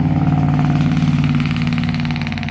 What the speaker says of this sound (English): I let that truck get by